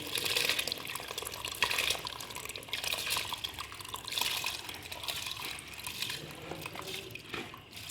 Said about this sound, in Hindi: इसमें हम शामिल कर देंगे चावल।